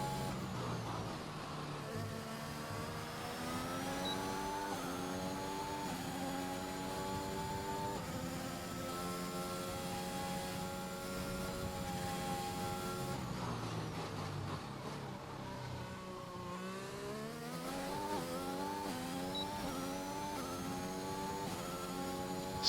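Aston Martin race car engines in an online racing game, a steady engine drone with pitch climbing through gear changes and a dip partway through, moderately faint and continuous for over twenty seconds.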